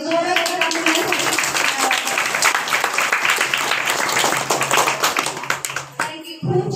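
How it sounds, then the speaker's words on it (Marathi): An audience at an Independence Day school function claps loudly and continuously for the children's performance, a dense sustained burst of applause with some voices mixed in, fading out near the end. "सर्वांनी जोरात टाळ्या वाजवा."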